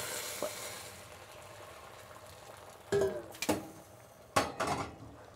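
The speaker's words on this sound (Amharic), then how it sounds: "እያማሰልኩ ነው።" A utensil stirs a potato and meat red stew in a pot over a faint simmering hiss, with a few distinct scraping clatters against the pot, close and otherwise quiet with no talk.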